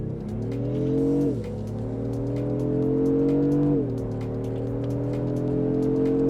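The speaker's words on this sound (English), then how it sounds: "let's do a launch control on the Lexus GX550" A Lexus GX550 with a 3.4-liter twin-turbo V6 does a launch-control start in Sport Plus, its engine note climbing loud and steady through two gear shifts, each shift marked by a brief dip in pitch.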